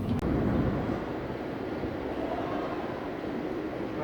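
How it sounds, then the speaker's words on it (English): Steady rumble and rolling noise from a tram ride in Las Vegas, heard from inside as one continuous, fairly loud drone with no pauses. "let's take a tram to Bellagio"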